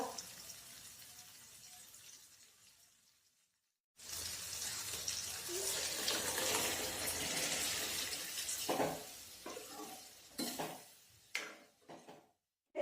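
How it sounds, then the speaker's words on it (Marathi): Toor dal poured into a pan of sautéed chopped tomatoes makes a wet, splashing rush after a few quiet seconds, followed by a sizzle and several sharp clinks of a spoon against the pan. "आता आपण त्यामध्ये तुरीची डाळ टाकूया।"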